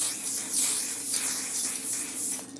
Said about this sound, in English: setting spray